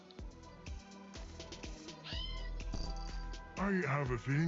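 Several cartoonish meows from a cat in the video game There is No Game, mixed in with game music and sound effects.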